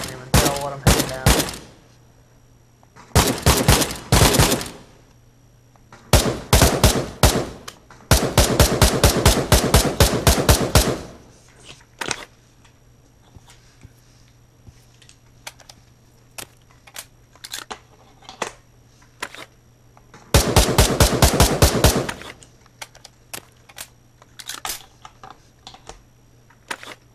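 Gunfire in the VR shooter Pavlov, played on Quest with a gunstock, comes as several rapid automatic bursts of crisp, close shots, separated by quieter stretches with scattered single clicks and shots.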